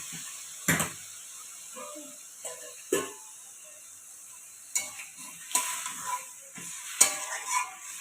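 Water goes into sizzling yogurt chicken in a pan, bringing sharp bursts of hissing and scraping stirring that recur irregularly over a quiet background.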